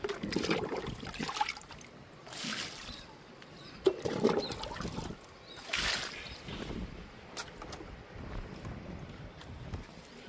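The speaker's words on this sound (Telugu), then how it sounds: "సపోటా మొక్కకు కూడా ఇచ్చేద్దాము వాటర్ని" Water is poured onto a sapota plant outdoors, making several splashing gushes in irregular bursts close to the microphone, mixed with wind buffeting.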